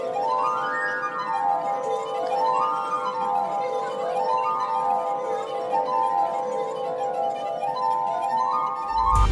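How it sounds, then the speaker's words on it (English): Glass harp played by a street artist rubbing wet fingers around the rims of crystal glasses, clear sustained ringing tones in rising and falling sweeps, steady and moderately loud over faint outdoor background. "he moves his wet fingers around the rim of crystal glasses to make incredible sounds"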